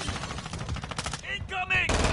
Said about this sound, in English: Taking effective fire!